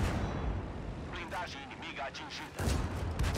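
Cannon fire from a metal war machine in a video game, heard as dense, rumbling booms with a talking voice over them.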